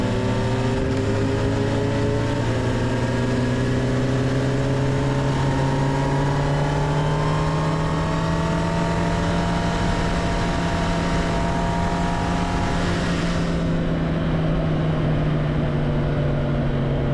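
A 2025 Kawasaki Ninja ZX-10R, nearly new and not yet broken in, runs down a track straightaway at Grattan with a steady loud engine drone that rises slowly in pitch, constant wind rush and no talking.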